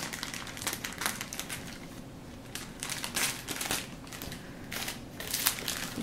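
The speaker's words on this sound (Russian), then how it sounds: "Сейчас я аккуратно открою." A small plastic parcel from an online order is carefully opened by hand. Close, crisp crinkling and crackling comes in uneven bursts, quiet overall and with no talking.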